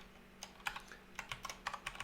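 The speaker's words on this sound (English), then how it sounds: "Hitting all the wrong keys." Fingers tap quickly on a computer keyboard in a quiet room, about a dozen light, irregular clicks in short bursts at close range, with no talking.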